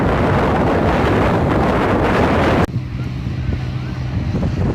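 Strong wind on a beach at Manavgat, Turkey roars across the microphone, loud and blustery, then drops suddenly to a softer, steady gusting with faint surf behind it.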